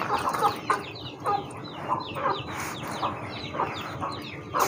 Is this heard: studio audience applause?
no